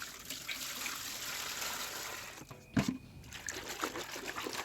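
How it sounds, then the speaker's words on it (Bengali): Warm water trickles and splashes softly over leafy vegetable greens being rinsed on a sunny rooftop, a gentle steady stream with one brief louder splash midway. "একটু উষ্ণ গরম জল দিয়ে এগুলো এখন হালকা এখানে ধুয়ে নেব।"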